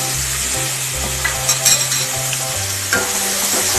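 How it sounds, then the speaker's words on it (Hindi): Chopped tomatoes with salt frying for dhaba-style dal fry as they are stirred constantly, with a loud, close, steady sizzle broken by a few spoon scrapes, and no voices. "सबको अच्छी तरह मिलाकर टमाटर को सॉफ्ट होने तक लगातार चलाते हुए भून लेते हैं"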